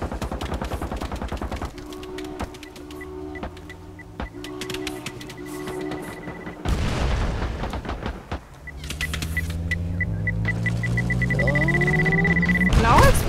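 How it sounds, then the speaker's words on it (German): A loud explosion bursts out in the zombie escape video game Pandemic Express, amid layered synthetic game tones and rapid crackling effects, with the din swelling and staying dense to the end. "Ah, ich kann explodieren."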